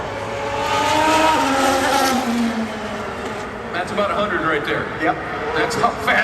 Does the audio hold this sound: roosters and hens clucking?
no